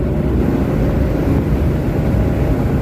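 A Ford Mustang with a Coyote V8 and aftermarket exhaust rumbles loud and close, a thick continuous low drone with no break and no talking.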